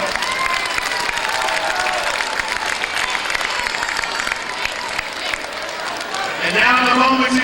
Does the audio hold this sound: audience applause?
yes